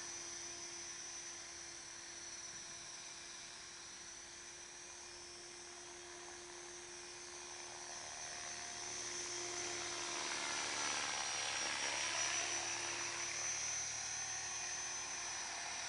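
A steady high-pitched whine comes from an HK 500GT RC helicopter on a test run, close by, swelling louder partway through as the motor and rotor speed rise.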